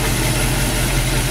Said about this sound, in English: Engine seems to run really good.